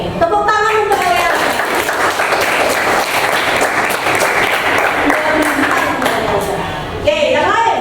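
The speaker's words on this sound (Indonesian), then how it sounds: "tepuk tangan untuk kalian" Students in a classroom break into loud, dense clapping that runs steadily for several seconds, with a teacher's voice audible at the start and end.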